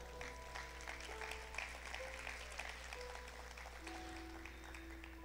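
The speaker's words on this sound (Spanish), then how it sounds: "Denle un fuerte aplauso al Señor." A church congregation applauds at a sermon, the clapping steady and fairly faint beneath a constant low hum and sustained organ-like tones.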